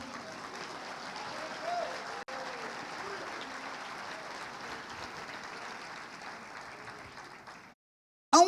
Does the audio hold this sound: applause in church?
yes